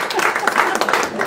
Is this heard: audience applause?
yes